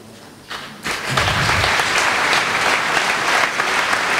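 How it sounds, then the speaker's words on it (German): Audience at an agricultural ball breaking into applause, starting faint then swelling into loud, sustained, dense clapping from a large indoor crowd. "Applaus"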